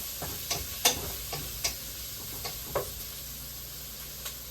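Meat and onions sauté in a pan while a utensil stirs them, giving a soft steady sizzle broken by light, irregular scraping knocks against the pan.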